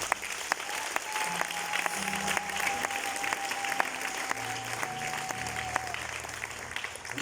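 An audience at a Bible school graduation ceremony applauding and cheering for the men of God, steady sustained clapping from a crowd, moderately distant, with faint voices underneath.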